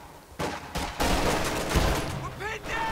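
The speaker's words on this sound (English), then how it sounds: "MG42 firing from mid here, going to suppress another blob of rear echelon troops" An MG42 machine gun in Company of Heroes 2 fires in dense, rapid bursts through a busy battle mix, loud and sustained, with a voice talking over the gunfire.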